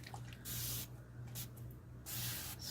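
A spray bottle is squeezed in three distinct bursts of misting hiss, close and fairly quiet, while bubbles are being cleared from a black and white paw print storage box mold being filled with Bond Craftor epoxy resin.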